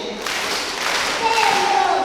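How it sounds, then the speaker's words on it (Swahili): A congregation at a Catholic Mass claps together in church, a dense, continuous wash of many hands filling the room at a steady level for a couple of seconds. "Tupige makofi"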